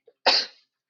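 A single sharp, breathy sneeze bursts out close by after a tiny intake of breath, then silence.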